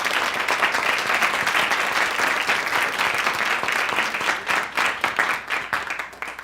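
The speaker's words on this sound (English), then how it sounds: "Round of applause for our performer," Audience applause for the performer Henrikku Terayama at an arts event, steady dense clapping from a full room that thins into scattered claps near the end.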